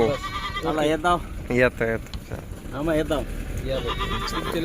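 Goats bleat repeatedly in a wavering, nasal chorus, several calls overlapping at close range with short pauses between them, while people talk faintly in the background on a farm.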